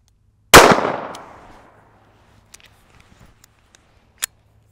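A single sharp gunshot from a short-barrel .22 Magnum firing Hornady Critical Defense FTX ammunition into a denim-covered gel block, loud and close, with a short decaying ring, followed by faint clicks and one small snap.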